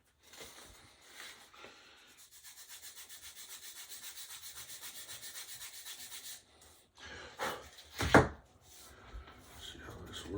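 Sandpaper rubs back and forth against a part from an F4U Corsair plastic model kit, a close, even scratchy stroking that builds in a steady rhythm, then a few sharper scrapes and a bump near the end.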